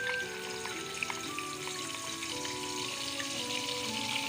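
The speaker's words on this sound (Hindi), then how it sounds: "हमने ऑयल थोड़ा कम कर लिया। ये तकरीबन 1 कप के बराबर है ऑयल। ठीक है, उसमें हम अपने ग्राइंड किए हुए जो प्याज हैं वो डाल देंगे।" Ground onions fry in about a cup of hot oil, crackling and sizzling softly and steadily without a break. The sound is close but quiet, with no voices.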